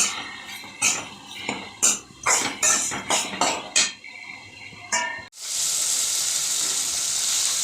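Clattering and scraping in a pan as sliced onions are sautéed gives way to a loud, steady sizzle of onions frying for the last couple of seconds.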